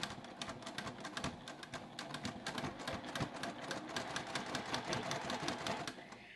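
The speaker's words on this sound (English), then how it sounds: "Put my foot down, remove that pin, and sew." A sewing machine stitches a quilted diamond Christmas stocking, running in a fast continuous rattle of needle strokes close to the listener without pause.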